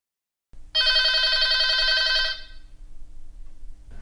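A telephone rings once with a loud, bright electronic trill lasting under two seconds, followed by a low steady indoor hum with no talk.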